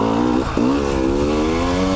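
A 2019 KTM 300 XC dirt bike engine revs steadily on a dusty wooded trail, with a strong harmonic buzz, a brief dip in revs near the middle, then a climb back to a loud, sustained drone.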